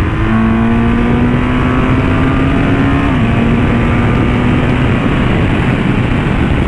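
Motorcycle ridden with a passenger on the back, a loud continuous engine drone with wind rush, steady throughout and briefly shifting pitch midway, with no talk.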